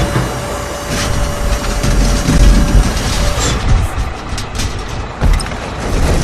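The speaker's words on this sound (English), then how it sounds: "This is a haul truck." Haul truck engine in a construction vehicle video game, a loud heavy rumble that swells and eases, with a faint tonal whine early on and a few thuds.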